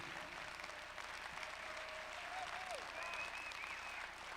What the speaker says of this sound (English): Clap your hands if you refuse.